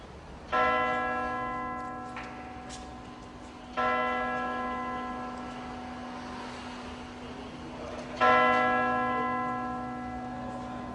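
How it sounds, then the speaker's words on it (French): Three slow, resonant strikes of a large bell of Fort-de-France cathedral, each ringing out and decaying into a long humming tail, distant and reverberant. "Le baptême des cloches de la cathédrale de Fort-de-France."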